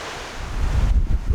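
Strong, gusty wind roars and buffets the microphone outdoors in stormy weather while an omelette cooks on a Trangia camping stove, a loud steady rush that swells toward the end with no one speaking.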